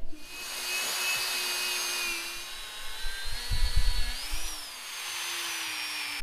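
Dremel rotary tool with a polishing wheel buffing a twin-turbo 3000GT engine bay part, a steady high-pitched whine with a brief lower grinding surge midway, close and loud.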